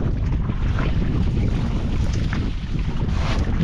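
Strong sea wind buffets the microphone in a constant roar, with rushing water and the low churn of a large fishing boat underneath.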